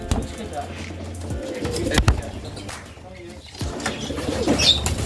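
Pigeons coo softly at a pigeon farm among native rock pigeons and Madras flying pigeons, with a brief flutter of wings, while someone talks over them.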